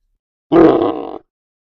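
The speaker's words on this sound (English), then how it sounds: "B-E-A-R, bear." A bear lets out one short, throaty growl, close and loud, lasting under a second and ending with a slight rattling pulse.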